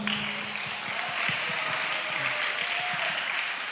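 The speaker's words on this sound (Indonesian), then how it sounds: "Tepuk tangan dulu nih." An audience at a regent's office visit in Badung, Bali, claps in steady applause, a moderately loud, even patter of many hands that runs throughout without speech.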